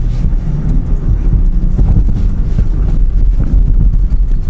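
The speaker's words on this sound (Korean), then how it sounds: "실제로 밑에서는 막 돌 구르는 소리, 돌 때리는 소리가" Land Rover Defender crawling off-road over loose rocks and dirt, with a dense continuous rumble and irregular knocks of stones striking and rolling underneath, heard loud from inside the vehicle.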